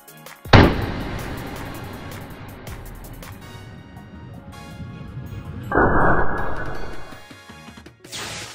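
Two loud HK 45 pistol shots crack against a $100 smart lock outdoors, each a sharp impact with a ringing decay, spaced about five seconds apart.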